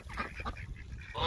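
Brief, nasal honking quacks from a male duck, several quick calls in a little over a second, close and fairly clear with no talk.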